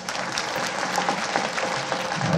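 A dense burst of crowd applause at a Maratha reservation rally, loud and steady throughout with scattered sharp claps and no talking.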